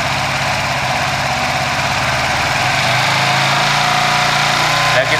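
Suzuki FU 177cc fuel-injected motorcycle engine running steadily at close range while its Apitech ECU is tuned live, a continuous even drone with a faint voice in the background.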